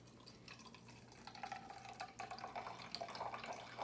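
Apple cider vinegar poured from a bottle in a small, faint trickling stream, soft liquid splashing and gurgling that builds slightly over a few seconds against a quiet room hum.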